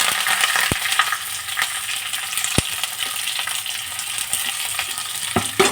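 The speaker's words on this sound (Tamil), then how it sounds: "நல்லா வதக்கி விட்டுக்கலாங்க." Onion, green chili and curry leaves sauté in hot oil with chana dal for a jackfruit seed puttu, giving a loud, close, steady frying hiss with occasional sharp taps of a spoon on the pan, and no voices.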